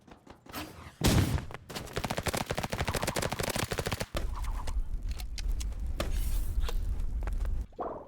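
Rapid gunfire from a multiplayer shooter game, a flare gun among the weapons, bursts loud and dense for several seconds after a heavy opening shot, with short pauses between volleys.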